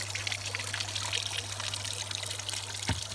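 Water from a pond pump trickles and pours out steadily, a soft continuous splashing over a low constant pump hum, with no talking.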